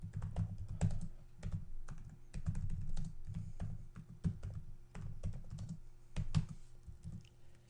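Someone types a command on a computer keyboard, quick clusters of soft, close key clicks with short irregular pauses, no talking.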